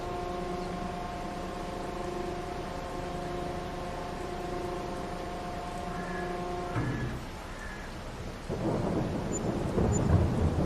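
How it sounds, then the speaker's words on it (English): Rain and thunder in a farming video game: a long rolling thunder rumble with steady rain hiss, a tonal music bed fading out midway, then heavier rain and another low rumble building near the end. "the rain has come to put a dampener on our progress"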